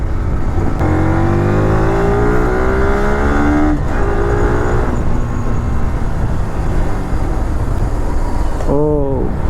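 A fully modified Yamaha R15 V3 motorcycle engine revs loudly and close, its whining tone climbing and falling through several throttle blips, with a final sharp rev near the end.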